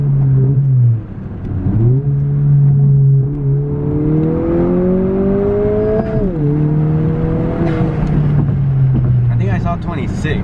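A 2020 Honda Civic Si on a KTuner tune builds boost in a hard acceleration pull, engine note climbing loud and near through gear shifts, ending with a faint hiss.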